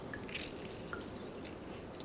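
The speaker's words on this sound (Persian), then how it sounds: "این دوتا لیموی یه ذره پیر شده رو میارم، آب اینا رو بریزیم توشون." Lemon juice squeezed over oven-baked trout, giving a few faint drips and soft wet squishes close by against a quiet kitchen background.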